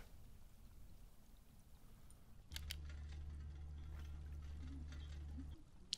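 Water poured out during window cleaning, a steady splashing pour starting partway through and running for about three seconds after a quiet stretch, fairly close.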